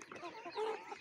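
Young chicks in a henhouse give soft, continuous clucking and peeping, close and faint, with no talk.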